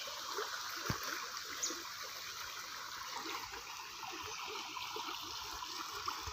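Water flows along a stream beside an old-style bridge, a soft continuous gurgle and trickle, fairly faint, with a couple of small splashes and no talking.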